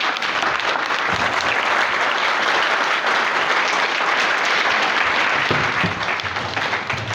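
Enthusiastic audience at a stage play bursts into loud, sustained clapping that fills the whole stretch evenly, dense and close with no speech over it.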